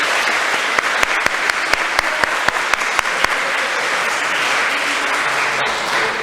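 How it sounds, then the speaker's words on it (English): A school athletic assembly crowd applauds in a dense, continuous roar of clapping, with distinct sharper claps punctuating the first half before the sound settles into a steady wash. "So a big round of applause to all those people I mentioned"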